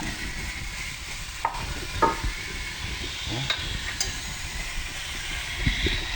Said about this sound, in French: faut que la viande saisisse un petit peu